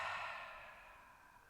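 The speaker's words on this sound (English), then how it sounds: "In through the nose and then out through the mouth for a few cleansing breaths." A slow cleansing breath exhaled through the mouth during a relaxation exercise, a soft airy whoosh that starts fairly strong and fades gradually over a second and a half, close and alone with no talk.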